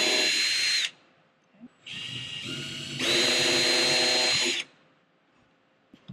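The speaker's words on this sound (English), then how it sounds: "You just drilled a hole in the roof." Power drill boring a hole through an RV roof, two loud high-pitched whining bursts close by, the second longer, separated by a short pause with faint handling noise.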